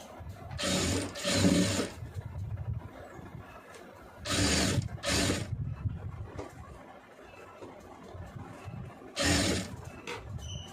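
A domestic sewing machine stitches a blouse neckline in three separate bursts, each a steady mechanical whir lasting about a second or two, with quiet pauses between them and no talking.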